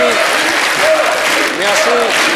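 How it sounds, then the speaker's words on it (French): A TV studio audience at a French variety show applauds in a loud, continuous roar of clapping with crowd noise, while a voice speaks over the top. "Ça aura été l'émission la plus longue en applaudissements"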